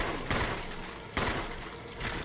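Gunfire in the Resident Evil video game, Chris campaign: three loud broadband shots spaced roughly a second apart, each with a short decaying tail, over a steady noisy game background, with no talk.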